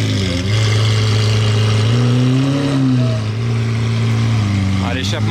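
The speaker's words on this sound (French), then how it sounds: "Et là ils sont en train de garer la SV très bruyante." A loud Lamborghini-style SV supercar exhaust rumbles close by while it is being parked, holding a deep steady drone before a sharp rev rises at the end.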